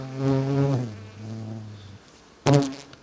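Honeybees buzz in a steady droning hum around an opened hive during a check of the colonies' food stores, the tone dipping once before a short louder burst near the end.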